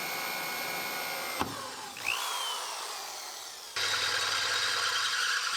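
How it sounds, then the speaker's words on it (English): A steady, loud power drill whir runs throughout while drilling holes in Mustang parts, briefly dropping in the middle before surging back up. "We'll drill a couple holes."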